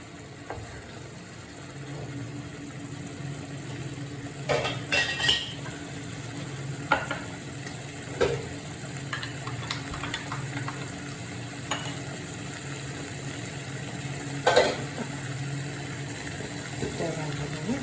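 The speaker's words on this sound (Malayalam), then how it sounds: "ഇനി നമുക്ക് കുറച്ചൊരു തേങ്ങാപ്പാൽ കൂടെ ഒഴിച്ചു കൊടുക്കാം." A Kerala-style prawn roast, cooked down nearly dry, sizzling in a pan as coconut milk is poured in: a steady frying hiss with occasional spoon clinks and stirring scrapes, close and moderately loud, without speech.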